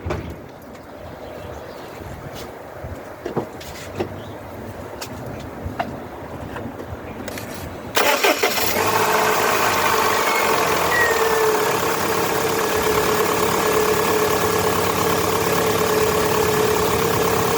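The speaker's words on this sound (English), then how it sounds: "Let's see if she starts and see how she sounds." Quiet rustling gives way to a Land Rover Freelander 1 K-series engine, freshly fitted with new spark plugs, cranking and catching, then settling into a steady, continuous idle close by.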